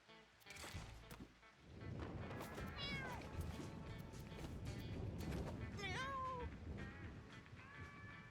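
Several cats meow in a video game, a few clear rising and falling cries standing out over a busy background, with a voice talking throughout.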